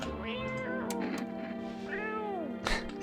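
A cat in the video game No, I'm Not A Human meows several times, close and clear, with rising and falling drawn-out calls over a steady low game hum.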